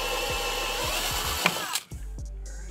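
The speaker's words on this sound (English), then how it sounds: "I need to punch a hole in here for the ground wire." A power drill bores a hole through the sheet metal of a Ford Transit van for a ground wire, a loud steady whir with rhythmic thumps that cuts off abruptly partway through, leaving low hum and faint clicks.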